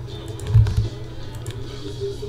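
A short, quick riffle of trading cards being shuffled, one brisk papery burst up close, then a quiet pause.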